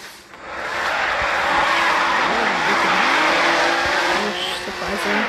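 Car skidding with squealing tires in the Car Crushers 2 video game, a loud sustained screech with engine drone running almost the whole clip.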